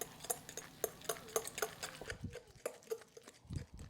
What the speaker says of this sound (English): And now we're going to mix everything together.